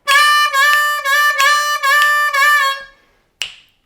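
Chugging chord pulses from a C harmonica carry the rhythm of a song, loud and near, in six or so breathy bursts that trail off, followed by a single sharp snap.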